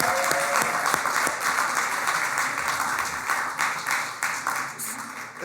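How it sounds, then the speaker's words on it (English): A large audience at a panel event applauds the panelists as they leave the stage, dense loud clapping that stays steady and slowly thins toward the end. "Give them a round of applause if they leave the stage."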